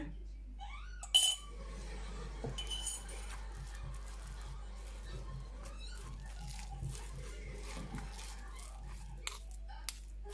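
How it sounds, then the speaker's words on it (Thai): A spoon clinks and scrapes against a bowl as ground roasted chili is added, a few sharp metallic taps early on followed by quieter scattered clinks over low background hum. "พี่แบมก็จะมาใส่พริกป่นสักสองช้อนนะจ๊ะ"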